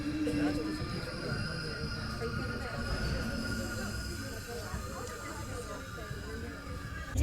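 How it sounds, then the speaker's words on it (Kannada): A diesel-hauled train, 16575 Yesvantpur–Mangalore, pulls out of B G Nagara station with a steady, loud rolling rumble and faint wheel squeal throughout, and a voice can be heard over it. "ನಮ್ಮ ಟ್ರೈನ್ ಈಗ ಬಿಡ್ತಾ ಇದೆ ನೋಡಿ"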